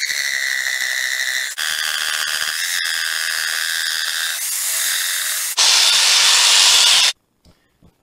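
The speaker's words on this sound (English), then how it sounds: "we'll make short work of this with the saber saw" An old Craftsman saber saw with old-style blades cuts wood for a breadboard, a loud continuous buzzing rasp that changes pitch as the cut goes on, then stops abruptly near the end.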